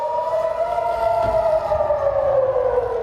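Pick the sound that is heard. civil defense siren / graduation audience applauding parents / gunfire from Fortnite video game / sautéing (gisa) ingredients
civil defense siren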